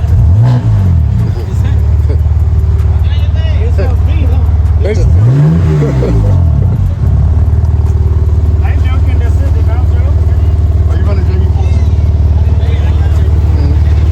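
A loud, throaty 700-horsepower modified BMW G80 engine rumbles at idle and blips its revs twice, with people talking close by over the noise.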